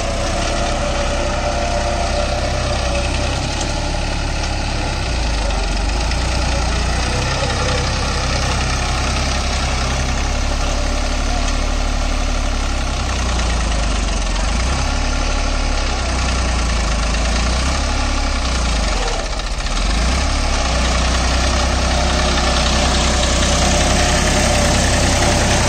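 A Massey Ferguson 246 Dynatrac 4WD tractor engine runs close by at a steady, loud idle, a continuous low diesel rumble with a slight knock throughout and no talking.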